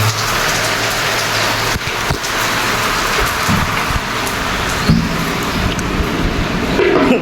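Steady rain pours down loudly, a dense continuous hiss of drops hitting surfaces, with a few scattered knocks and thuds in the background.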